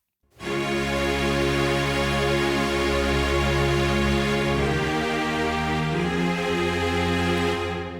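A full orchestral ensemble sustains a slow, legato melody with rich layered harmonics, steady and fairly loud throughout, with no voices.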